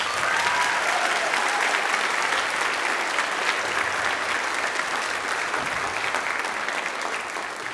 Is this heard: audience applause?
yes